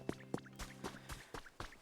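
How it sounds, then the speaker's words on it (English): Soft watery spritzes and drips from spraying water in the Pokémon Pokopia game, about seven light pulses in quick succession, faint and close. "Looks like you sprayed some water."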